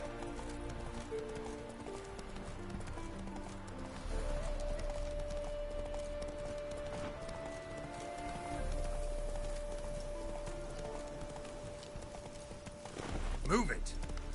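Hoofbeats of Geralt's horse Roach from The Witcher 3 clop steadily in a galloping rhythm, joined by a sustained tonal background layer and a brief sharper burst near the end.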